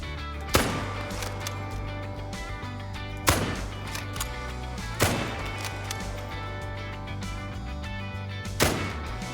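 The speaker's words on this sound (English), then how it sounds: "The next rifle we're going to use is the FL Sporter 303." Four loud, sharp rifle shots from the FL Sporter 303 in the hunting game theHunter: Call of the Wild, spaced a few seconds apart, each with a short echoing tail over a steady low background hum.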